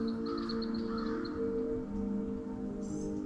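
A crow caws in a quick series of calls, fairly distant, over a steady hiss that resembles rain.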